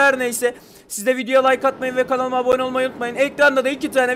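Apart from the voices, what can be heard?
No everyday noise stands out behind the speech.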